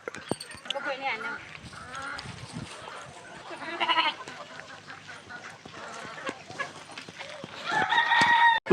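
A big Janakipuram rooster crows loudly and close by on a farm with a vegetable garden near a well, with a person talking over the earlier part before the long crow rings out at the end.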